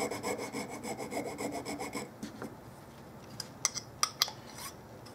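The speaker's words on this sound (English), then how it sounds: "I'm just going to file it a little bit, and then stop" A metal file rasps rhythmically back and forth across a euphonium valve, about a dozen quick even strokes, then stops, followed by a few sharp metallic clicks and taps as the part is handled.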